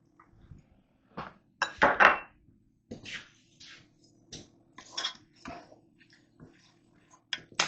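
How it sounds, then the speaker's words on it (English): Flour being stirred into melted butter inside a Ninja Foodi pot, with soft, quiet scraping and tapping of a utensil in irregular bursts separated by pauses. "Let's go ahead and add the flour and stir that to combine."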